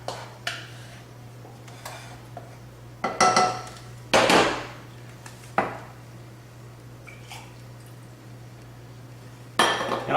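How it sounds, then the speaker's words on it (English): A utensil scrapes and knocks against containers and a pan while BBQ sauce ingredients are emptied out, giving intermittent clinks and scrapes in separate bursts over a faint steady hum. "Try to scrape all the ingredients that you can out of there so that you're using every bit of it"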